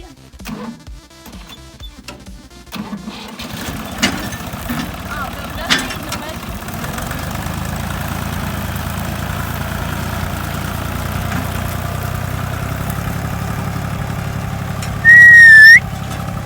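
A tractor engine idles with a steady low rumble that starts after a few seconds and keeps going, with a brief high whistle near the end, while hauling pumpkins from a garden.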